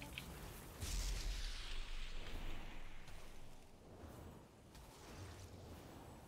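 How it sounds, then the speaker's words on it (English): Cannon fire during the Mekkatorque boss fight in World of Warcraft: a booming blast with a whooshing tail near the start, followed by fainter rumbling impacts amid game noise. "Cannon."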